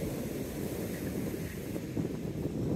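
Ocean waves roll onto a beach during metal detecting, making a steady, loud wash of surf mixed with gusty wind noise on the microphone. The roar is continuous and nobody speaks.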